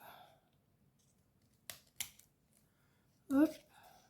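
Scissors snip through the ear of a wool cat Christmas decoration: two quick close cuts followed by a louder, sharper snip, with soft background noise in between.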